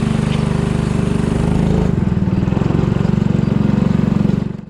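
Rental go-kart engines at an outdoor karting track put out a loud, steady, pulsing small-engine chug that holds close by with a slight shift in pitch as the karts idle and move off.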